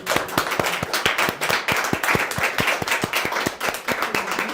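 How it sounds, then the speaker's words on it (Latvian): A seated audience at a discussion event applauds, with many hands clapping in a steady, fairly close patter that keeps going for several seconds without talk. "Tā kā es domāju, ka aplausus pelnījis."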